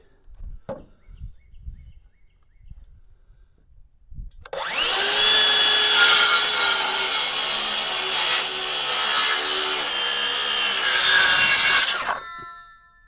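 A small DeWalt power tool bites into wooden boards on a 20-foot utility trailer. After a few quiet knocks and handling noises, a loud, continuous whining cut runs for about eight seconds close by, then stops abruptly.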